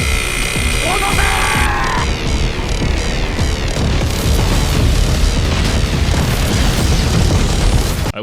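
An anime battle scene in which bombs dropped from blimps set off dense, continuous explosions. Heavy rumbling booms and crashes sound loud and close, with a whistling descent at the start and voices shouting over the barrage.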